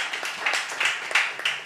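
Audience applause during a French comedy show, a steady wash of clapping from a crowd with small swells, fairly close and alone.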